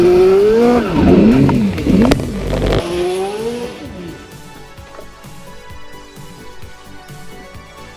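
A 1986 March IndyCar under heavy wheel spin: a loud, rising and falling engine howl with sharp harmonics for about three seconds, then fading to a low, uneven rumble with faint knocks.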